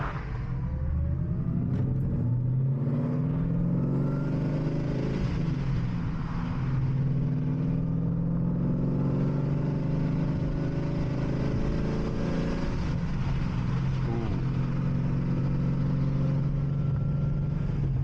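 A 2011 Ford Mustang with a tuned exhaust accelerates at night, the engine rising in pitch through the gears with a loud, continuous throaty rumble that stays close and steady throughout.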